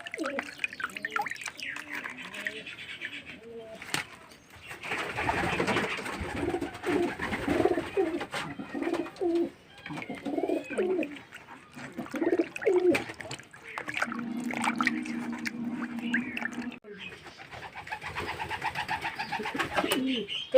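Pet pigeons being bathed, soft repeated cooing and throaty coos close by, mixed with splashes and drips of water and wing flutters, with a voice speaking faintly at times.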